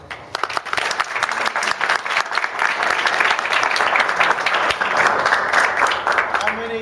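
Sustained audience applause at a martial arts gathering honoring Richard Bustillo, many hands clapping in a thick, lively wash with sharper individual claps poking through for several seconds, some voices mixed in.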